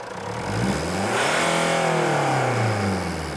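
A diesel car engine revs hard with the throttle floored, climbing smoothly to a loud sustained roar, then easing slightly, close by and without talk.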